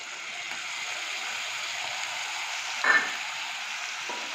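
Chopped onion, ginger and garlic frying in a pan give a steady, close sizzle throughout, with one brief louder clatter partway through.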